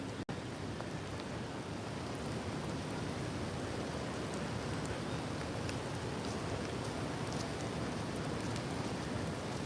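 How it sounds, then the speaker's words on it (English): Steady rain pours down outdoors in a continuous dense hiss with no breaks, loud and close, alone without voices. "I had no idea it was going to rain today."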